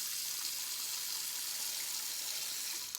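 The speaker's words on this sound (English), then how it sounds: "I'm just going to put some hot water in here just to cover the plug hole to get it started." Hot water running from a kitchen tap into a plugged sink, a steady, close, broadband rushing stream that holds level throughout with no talking.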